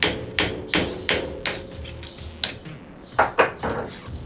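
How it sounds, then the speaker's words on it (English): A punch is hammered against the lock ring of a Suzuki DRZ400SM rear shock. About a dozen sharp metallic taps ring out close by, evenly paced at first, then faster and more irregular. "You're going to tap away at that lock ring to move it away from the adjustment ring"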